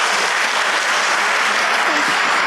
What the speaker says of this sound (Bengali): ওনার জন্য একটা জোরে হাততালি দেন আগে